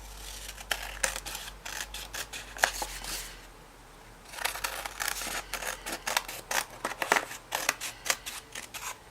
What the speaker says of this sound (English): I'm going to cut that off. Cut the spare bits off here.